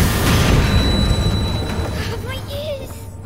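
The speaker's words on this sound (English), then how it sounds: "That explosion is fucking ridiculous." A tank blowing up in the video game A Plague Tale: Requiem, a loud deep boom with a rumbling tail that slowly fades over about three seconds, with game sounds after it.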